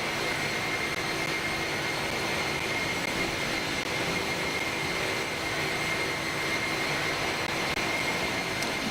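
Steady, even roar of the jet engines on an Airbus A300-600R in a flight simulator game, a constant hum with a faint whine over it and no change in level throughout.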